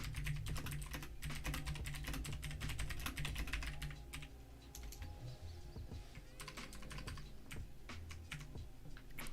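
Fingers typing on a computer keyboard, a fast steady clatter of key taps close up, thinning slightly midway then continuing, with no talking over it.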